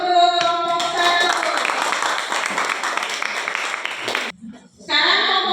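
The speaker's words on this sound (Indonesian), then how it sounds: "Baik, kasih aplaus untuk kelompok 1." A classroom full of students claps for the first group after its presentation, a steady wash of applause lasting several seconds before it stops abruptly, with voices mixed in.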